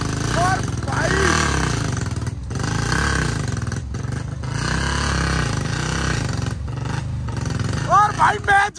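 A 1985 Royal Enfield Bullet and a 2006 Hero Splendor race side by side, their engines droning loudly and steadily with revving swells, while someone shouts excited commentary over the noise throughout.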